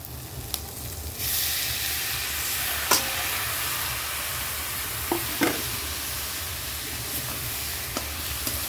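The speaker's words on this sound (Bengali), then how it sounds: "এবার আমি চালটা দিয়ে দিচ্ছি এর মধ্যে" Gobindobhog rice stirred and fried in spices in a pan, giving a steady loud sizzle and hiss that comes in after a second, with a few sharp scrapes and clinks of the spoon.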